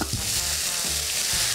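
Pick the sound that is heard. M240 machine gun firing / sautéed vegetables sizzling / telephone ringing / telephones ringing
sautéed vegetables sizzling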